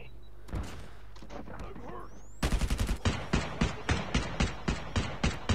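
Call of Duty Mobile gunfire: a quiet stretch with talking, then a rapid string of loud, evenly spaced shots like automatic fire, with speech in between.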